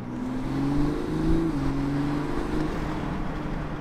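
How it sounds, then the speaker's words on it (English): Under load, a Toyota A90 Supra engine climbs steadily in pitch, with a breathy induction rush layered over the moderate, smooth drone heard from the cabin. "it definitely did like open up a lot more induction noise. You do hear it just start whooshing."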